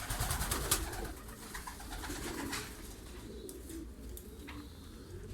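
A loft full of ornamental pigeons, hünkari and balina among them, coos continuously nearby, layered low calls blending with light rustling and scattered clicks.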